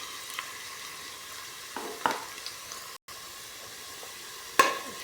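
Garlic frying in a pan gives a faint, steady sizzle with a few brief stirring clatters and a louder scrape near the end.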